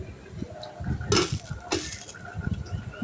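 Metal pot lid lifted and set back with a couple of clinks and a scraping clatter while stinging catfish cooks in a pot, over a low kitchen background with no speech.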